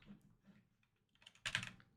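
Quiet, close keystrokes on a computer keyboard while setting up lighting presets, a few soft taps followed by a brief quick flurry of clicks.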